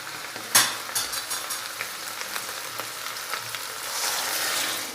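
Cauliflower tipped into a hot pan sets off a sharp splash of sizzling, then a steady frying crackle with light stirring scrapes, close and clear with no talking.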